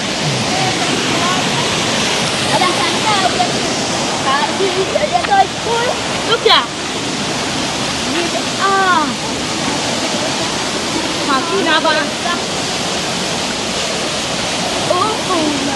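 A river rushes with continuous broadband wash close by, while people talk over it and birds chirp faintly in the background.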